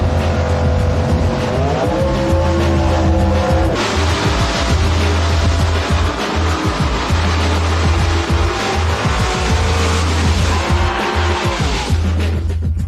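A nitrous-powered drag race car roars down the track, engine screaming loud and continuous with rising gear pulls and tire squeal throughout, heard alone without any talk.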